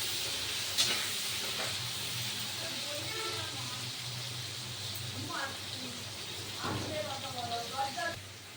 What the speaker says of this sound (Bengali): আগে এই আলুটাকে লাল করে ভেজে নিতে হবে।